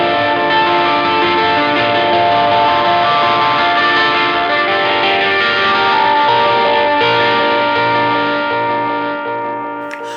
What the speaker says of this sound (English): I'm using my blues pedal with some delay and some very subtle modulation in there